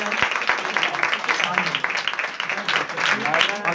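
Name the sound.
audience applause welcoming guest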